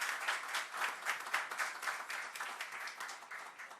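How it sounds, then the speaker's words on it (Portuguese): Applause at a special council plenary session in Osasco, a fairly quiet, distant room of hands clapping in a steady, fluttering pattern that continues throughout before beginning to thin slightly. "Então, uma salva de palmas,"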